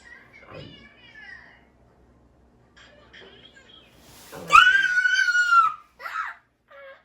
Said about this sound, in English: Don't scream like that again.